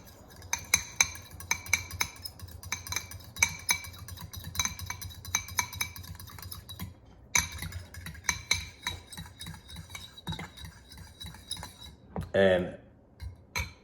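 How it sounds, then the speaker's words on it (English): A fork clinks and scrapes against a dish while Ponzu sauce is mixed for crispy salt and pepper shrimp, steady close metallic tapping and stirring with a few louder knocks and a brief pause. "we're gonna combine this Ponzu sauce in here. And I use a fork."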